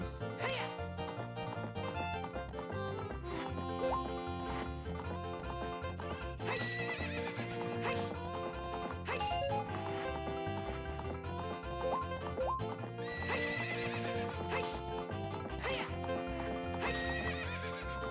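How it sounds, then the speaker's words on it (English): A horse in The Legend of Zelda: Ocarina of Time whinnies repeatedly over steady clip-clopping hooves, loud and continuous against layered game music, with no voices. "Can you pet the horse in Ocarina of Time?"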